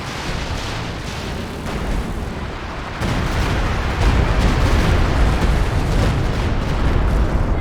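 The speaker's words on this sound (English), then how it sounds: "Is that a second howitzer now?" Howitzer artillery fire in Company of Heroes 2 during a 3v3 match, a dense ongoing battle din of heavy booms and blasts that grows louder after a few seconds, with steady rumbling explosions and no voices.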